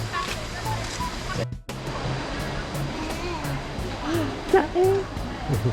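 A forest stream at Sa Morakot in Thailand rushes steadily beside a walking trail, a close, constant watery hiss with small splashes, while someone talks over it.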